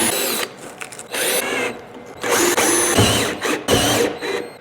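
Power drill driving a screw into the wall of a steel building being made into a workshop: several loud, close whirring bursts with ratcheting, grinding texture, separated by short pauses.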